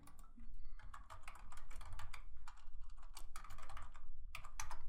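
Rapid, uneven clicking of keys on a computer keyboard, typed up close and steady throughout with short pauses between bursts, no voices.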